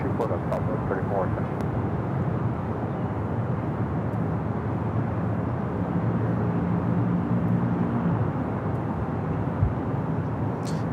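A Southwest airliner takes off from runway 24 left at LAX, its engines a broad, steady roar that holds level and fairly loud throughout, with faint radio voices at the start.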